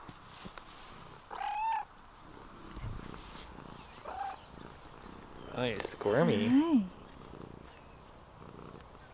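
A cat purrs softly and continuously up close, with a few chirpy meows and brief human speech breaking in.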